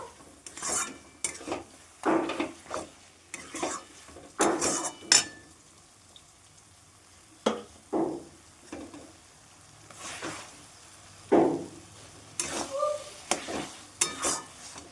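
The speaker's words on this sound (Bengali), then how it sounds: "খাসির চর্বিটা খুব ভালোভাবে কষানো হয়েছে তেল ছেড়ে দিয়েছে" Goat fat fries in a pan for a chickpea dish, with repeated scraping stirs and rattling spatula strokes over a soft sizzle, close up, in irregular bursts with pauses between.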